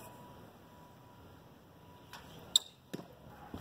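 A second arrow leaves an old bow with a crisp twang and hits the target a fraction of a second later with a dull knock. Both sounds stand out clearly against quiet outdoor background noise.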